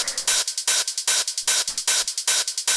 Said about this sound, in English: It gives you that like industrial kind of techno hi-hat.